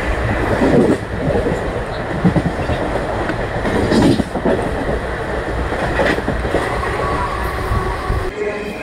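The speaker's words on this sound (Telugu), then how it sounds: "మన ట్రైన్ వచ్చేసండి రఘునాథ్పల్లి రైల్వే స్టేషన్ అయితే స్కిప్ చేస్తుందండి" Express train 17208, the MTM–SNSL weekly Express, rolls past Raghunathpalli station at about 30 to 35 km/h, a loud close rumble with clattering wheel beats and faint squeals throughout.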